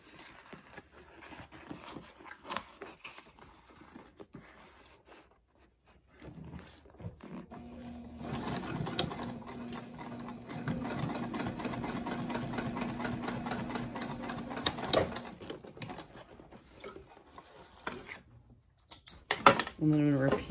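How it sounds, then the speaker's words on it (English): A sewing machine top stitches the gusset of a backpack in one long, steady run of rapid whirring, close up, with short starts before and after and a person talking across parts of it. "I'm just going to flip the exterior down and leave the gusset up and top stitch it like that"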